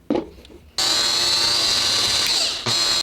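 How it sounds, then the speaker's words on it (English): A power drill whines loudly at high speed for about two seconds drilling through plastic, stops briefly, then starts again, after a few light clicks of handling. "I have to drill through that outline right now"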